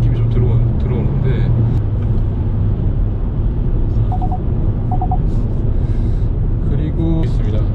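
A Hyundai Avante cruising at around 100 km/h gives a steady, low engine drone and road rumble that sounds strained rather than lively, with someone talking over it throughout.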